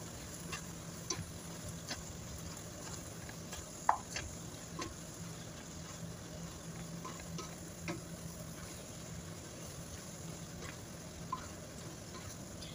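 Grated carrots stirred in a frying pan while sautéing vegetables: a steady low sizzle with soft scraping and occasional light clicks of the utensil, close and even throughout, with no talking.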